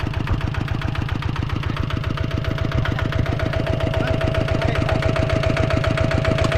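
Kubota ZT tractor engine running hard in heavy, very hard soil, a close, loud, steady chug of rapid, even firing pulses that swells slightly toward the end, with no talk.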